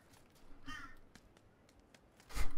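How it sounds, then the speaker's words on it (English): Crows caw in the background of the game PUBG, a few faint, scattered calls with a louder caw near the end, over quiet ambient noise. "I'd be surprised if you guys can hear the old classic crows in the background"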